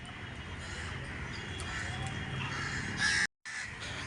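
Crows caw repeatedly against a steady outdoor background hum, with a brief dropout near the end.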